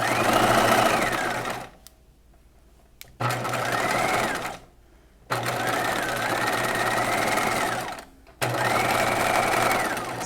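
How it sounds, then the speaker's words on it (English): Sewing machine stitching a half-inch bodice seam, running in steady whirring bursts that stop and restart three times with short quiet pauses between runs. "I'm sewing about 1/2 inch"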